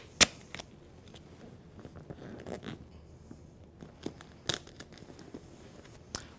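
Tape tears off the roll in sharp ripping bursts and is pressed onto a body form, with quiet rustling and crinkling between the louder tears.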